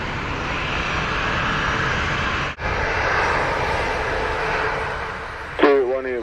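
A Delta airliner takes off from runway 25 at Montego Bay, Jamaica, its engine roar loud and steady throughout, with a brief radio voice breaking in near the end.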